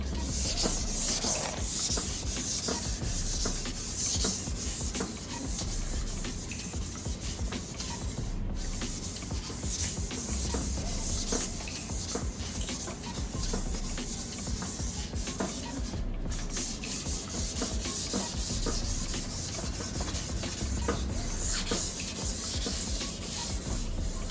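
A motorcycle gas tank being wet-sanded by hand with 1000 grit sandpaper, a continuous close rubbing and scratching hiss with steady back-and-forth strokes and no talking.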